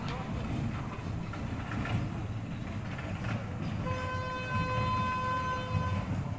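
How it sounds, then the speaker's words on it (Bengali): A toy train runs through a children's park, its horn sounding as a steady multi-tone toot over the last few seconds above continuous rumbling crowd and outdoor noise. "তো দেখো টয় ট্রেনটা ছেড়েও দিয়েছে।"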